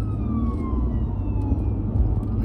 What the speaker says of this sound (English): Here's Siren.